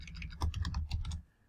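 Quick, light clicking of keys on a computer keyboard, about a dozen close taps in a short burst that fades at the end.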